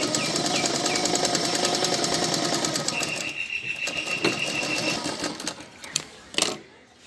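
A sewing machine runs in a steady, dense stitching whir as a bodice piece is sewn all the way round onto a pant piece, then slows and stops, with a few sharp handling knocks at the end.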